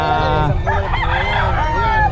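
A gamecock crows loudly nearby at a gamefowl farm in Nueva Ecija, Philippines, its harmonic call stretching across the moment amid a busy background of other fowl and faint chatter.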